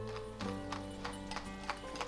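Horses pulling a wagon clip-clop in the game Ostriv, with steady evenly spaced hoof taps over a faint tonal background.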